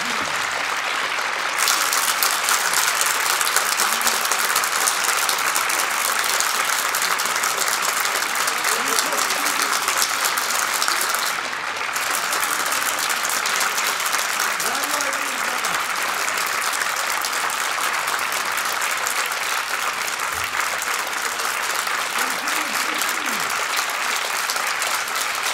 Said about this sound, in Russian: Ваши аплодисменты, пожалуйста.